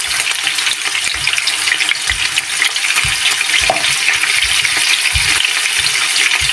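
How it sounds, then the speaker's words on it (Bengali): Prawns fry with turmeric in a hot pan, giving a steady loud sizzle with frequent low knocks and scrapes of a spatula stirring, continuous throughout with no talking. "চিংড়ি মাছটাকে হালকা একটু ভেজে নেব"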